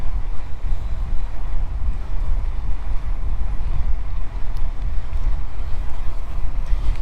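GoEagle electric bike ridden off-road, a steady loud rumble of wind buffeting and tyre noise on rough ground lasting throughout, with no voices.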